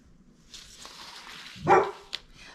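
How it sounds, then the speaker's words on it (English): A dog barks at something seen through a window, giving a single close, sharp bark midway followed by a brief yip, with faint indoor rustling around it. "She barks at everything that she sees out that window."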